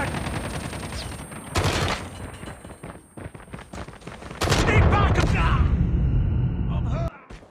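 Rapid automatic gunfire and bursts of shots from a Call of Duty video game, loud and dense, with a brief lull before a heavier sustained barrage, and someone speaking over parts of it.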